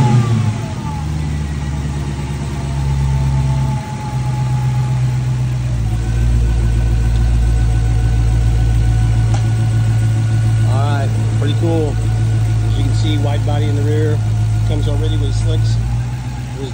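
Dodge Demon 170 V8 started by a dealership technician, firing up with a loud rumble and then settling into a deep, steady idle with a few blips of revving, while people talk nearby.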